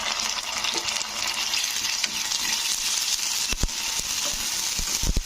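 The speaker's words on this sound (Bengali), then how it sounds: "এরপরে আমি এর মধ্যে দিয়ে দিচ্ছি দু চামচ মতো আদা রসুনের পেস্ট" Ginger garlic paste frying with reddened onions in a pan, a loud, continuous sizzle with a spoon stirring and scraping, ending in a few sharp knocks against the pan.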